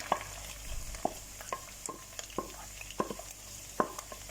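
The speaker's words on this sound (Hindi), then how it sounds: "अब हम इसमें ऐड करेंगे फ्राई प्याज" Crushed fried onions stirred into a ginger-garlic masala sautéing in a pot for arvi salan, with a steady low sizzle and repeated scraping stir strokes at close range, no talking.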